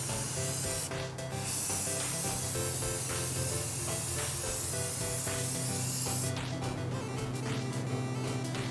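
Short hissing bursts of rattle-can primer spray into a Lexus SC400 engine bay: one brief burst early, then a longer run of sprays near the end, all over steady background music.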